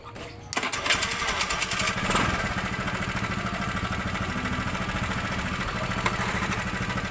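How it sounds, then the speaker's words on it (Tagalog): Small motorcycle engine starts and runs at a steady, slightly rough idle with a brief rev, heard close during a spark plug test, with mechanical clatter throughout. "Papaandarin ko muna yung motor para alam yung maandar talaga yung motor ha."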